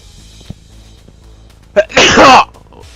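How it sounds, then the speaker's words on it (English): A single loud, close sneeze with a short sharp intake before it, in an otherwise quiet room. "this tower made me sneeze"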